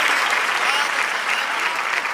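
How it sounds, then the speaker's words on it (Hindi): Audience applause at a Hindi comic poetry event, with a thick, steady roar of many hands clapping at once, loud and sustained throughout. "आप एक बार तालियां बजाइए"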